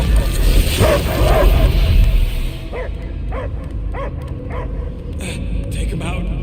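A dog barks and yips in a run of short, evenly spaced calls over a busy, rumbling soundtrack from Marvel's Guardians of the Galaxy.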